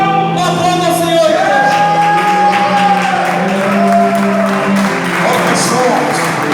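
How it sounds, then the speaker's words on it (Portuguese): A church congregation applauds during an evangelical service, a sustained wash of clapping mixed with shouts and raised voices that fills the hall throughout. "Aplauda o Senhor."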